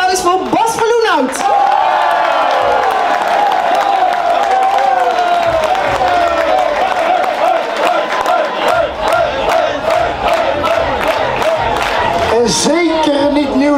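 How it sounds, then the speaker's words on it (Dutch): Loud, sustained crowd cheering, whoops and clapping in a hall at a Boemeldonck carnival event for Bas Verloenhout, with raised voices and shouts mixed through the roar for the whole stretch. "Een groot applaus voor Bas Verloenhout."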